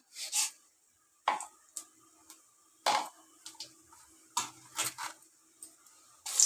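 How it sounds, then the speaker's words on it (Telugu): Mustard seeds and cumin go into hot oil in a kadai: a scattered series of sharp metallic spoon clinks and taps against the pan, close and distinct, separated by quiet pauses. "అందులో నూనె వేసుకొని ఒక స్పూనుడు ముందు ఆవాలు జీలకర్ర వేసుకోవాలి"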